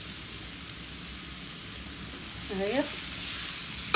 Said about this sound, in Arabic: نحمر التومة ونعمل الطشة بتاعتنا الحلوة دي